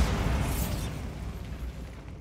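Bombarda spell blast from the game Hogwarts Legacy, a single heavy booming explosion that hits at once and then rumbles and fades out over about two seconds, with no speech.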